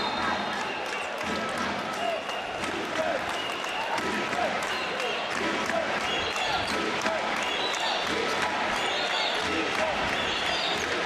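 A basketball arena crowd at a FIBA Women's AfroBasket game between Angola and Rwanda roars steadily throughout, with ball bounces and a commentator speaking over the din.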